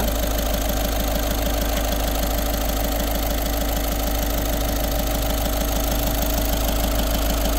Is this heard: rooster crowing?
no